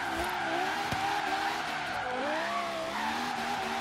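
A turbocharged Lexus LFA sports car engine in Forza Horizon 3 revs high while tires squeal in a long continuous skid, the pitch sliding up and down through the drift.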